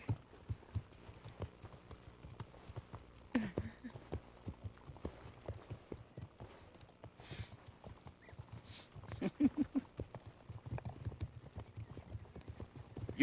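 Horses walk with uneven, moderately close clip-clopping hooves on hard ground, a loose irregular rhythm with a few louder hoof clusters and faint rustling in between.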